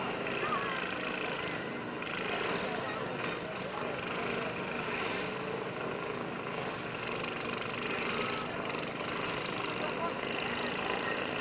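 Riding lawn mowers, including a John Deere and a small mini mower, race and collide in a county fair demolition derby, with a constant rough engine clatter and crowd noise under a loudspeaker announcer's talk.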